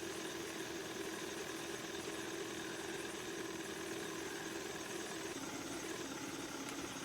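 Boat engine droning steadily in the Norco video game, a continuous mid-pitched hum with a broad noisy wash, running alone without pauses at moderate level.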